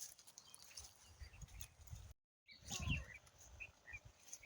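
Small birds chirp faintly in a garden, a few short, high tweets scattered over quiet outdoor background noise, with a brief dropout to silence partway through.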